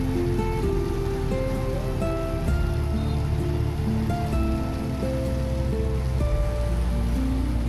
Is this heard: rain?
yes